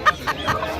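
Roosters cluck at a busy poultry market, three or four short, close clucks following one another in quick succession.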